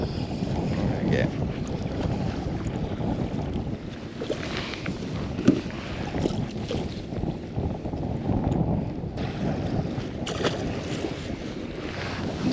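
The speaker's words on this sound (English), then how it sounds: "I really don't like this wind." Steady wind roars across open water around a small fishing boat on the sound in tough autumn conditions, a constant low rumble with light lapping and occasional knocks against the hull, no one speaking.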